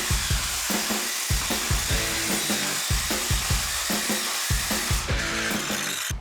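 A power tool cuts through sheet metal for a raised garden bed, giving rapid, loud, rhythmic bursts of harsh grinding noise with a steady hiss running beneath, close to the listener.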